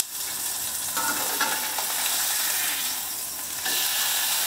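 Potatoes frying in a pan for a home-cooked steak cheeseburger meal, with a steady bright sizzle and hiss throughout and a brief louder crackle toward the end.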